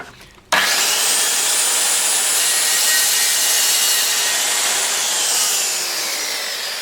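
A Dewalt DWE576K circular saw runs a cut through wood, starting abruptly after a quiet moment and holding a loud, steady high whine close up for several seconds before easing slightly at the end.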